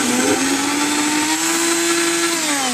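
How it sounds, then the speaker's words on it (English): A stick blender whirs with a strained, laboring drone that dips and shifts in pitch as it churns through thickening liquid soap. "When the stick blender makes that sound, where it's like, ugh, it's not doing anything."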